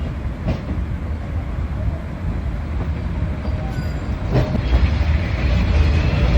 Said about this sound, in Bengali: আমার পুরো গা ঘেঁষে ট্রেনটা বেরিয়ে গেল।